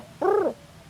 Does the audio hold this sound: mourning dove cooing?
yes